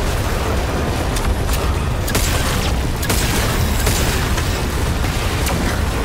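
Dense, continuous rapid gunfire with booming blasts in The Callisto Protocol, loud and close throughout, sharp cracks layered over a constant roar with no pauses.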